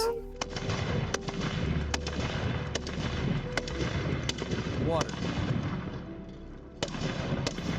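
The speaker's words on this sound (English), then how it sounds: "Now it's going to be the Shoden volley and the gunners are going to fire individually in sequence." Gunners fire a Shoden volley one after another in sequence, a string of sharp, separate shots spaced at irregular intervals over a constant noisy background, with voices heard at points.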